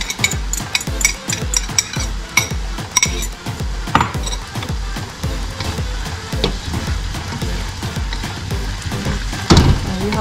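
Egg being stirred into a lumpia Shanghai filling, with quick rhythmic clinks and scrapes of a utensil against a bowl and a faint sizzle underneath, and a louder clatter near the end.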